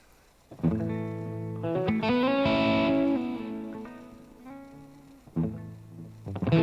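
Distorted electric guitar through amp simulation software, playing loud sustained chords and bends with thick harmonics and a brief drop before the riff resumes.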